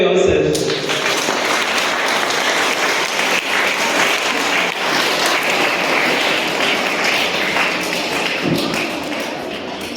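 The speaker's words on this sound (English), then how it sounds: "Please clap for yourself." Students at a school ecosystem session applaud in a dense, loud burst of clapping that starts abruptly and carries on steadily, easing slightly toward the end.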